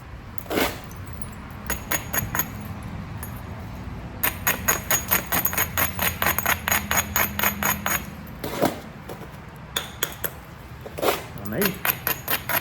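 Sharp repeated knapping strikes spalling Alabama chert, a fast run of crisp clicky impacts with pauses between bursts, close and fairly loud.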